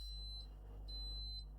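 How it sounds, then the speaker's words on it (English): A Jimmy R9 Pro beeps for low water: three short, high electronic beeps evenly spaced about half a second apart, quiet over a low steady hum. "it says there's not enough water. That's why it's beeping."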